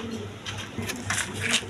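Lively Spanish pouter pigeons coo in soft, low murmuring phrases, a steady close cooing texture with faint background noise and rustling.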